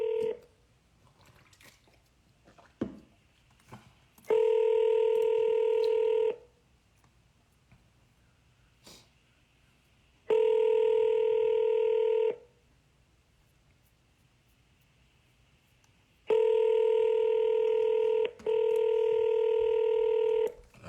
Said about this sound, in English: This lady hasn't answered my calls forever at all.